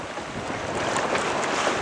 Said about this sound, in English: Have a good sailing breeze now